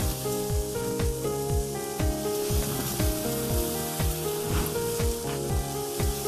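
Beef patties topped with cheese sizzling on a grill beside cooked bacon, a dense continuous hiss with crackling pops throughout, loud and close, with a repeating rhythmic tonal pattern running underneath.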